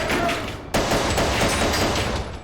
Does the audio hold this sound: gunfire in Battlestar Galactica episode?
yes